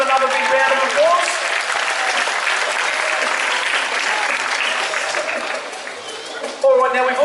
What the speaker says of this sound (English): We give them another big round of applause.